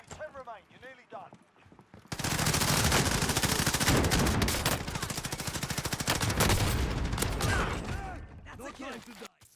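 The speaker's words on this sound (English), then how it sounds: "since these guys had shotguns, it's an easy battle" A squad fight in Warzone with heavy, close gunfire from shotguns and automatic weapons, a loud sustained barrage that follows a moment of talking and fades toward the end.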